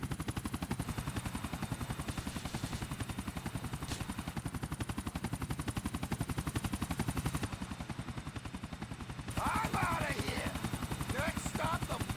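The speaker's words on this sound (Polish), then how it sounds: "A, helikopter, okej." A helicopter in the video game Grand Theft Auto IV flies nearby, its rapid rhythmic rotor chop pulsing loudly and steadily throughout, with brief crackling bursts near the end.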